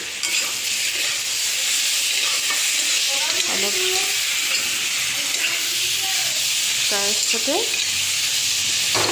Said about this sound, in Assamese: মই ভাজি আছোঁ।